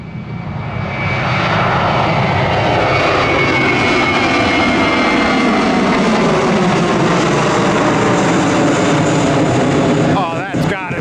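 A jet airliner takes off from runway 20 left at Orlando International, its engines roaring loudly and close in a sustained rising blast that fades slightly near the end, with voices underneath.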